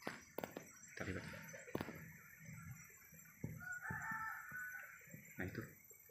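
A wild junglefowl rooster crows loudly nearby amid sharp clucks and scattered thumps, with a rough, outdoor feel and no speech.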